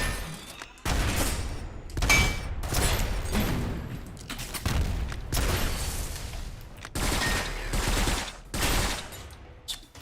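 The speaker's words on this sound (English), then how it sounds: "Burst fire" Burst-fire rifle in a video game cracks out in repeated loud, rapid volleys, about seven bursts separated by short gaps, with no talking.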